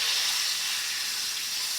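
Apple wonton filling seeping out and sizzling in hot frying oil, a steady close hiss with no breaks and no voices.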